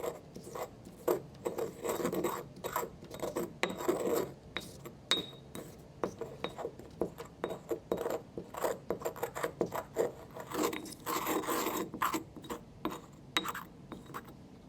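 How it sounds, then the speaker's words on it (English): Leaf mixture ground with a pestle in a mortar for chromatography prep, giving a steady stream of gritty scraping and rubbing strokes, close and fairly quiet, with no talk. "The mixture is ground with the pestle for at least 2 minutes."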